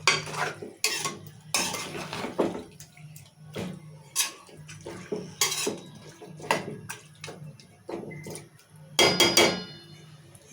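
Chicken being stirred in oil and salt in a pan for a country-style curry, with repeated close scraping and clinking strokes of a spoon against metal in bursts, with no talk.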